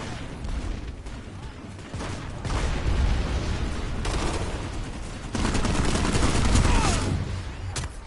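Sniper fire and other gunfire crackle in the video game Planetside 2, a dense continuous barrage of shots and bursts swelling in waves and staying loud throughout, with little or no talk over it.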